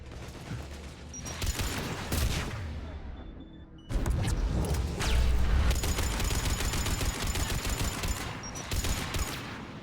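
Weapon fire in the video game Mass Effect 3: rapid bursts of gunfire and booming shots, loud and nearly continuous, pausing briefly before a heavier volley of repeated shots.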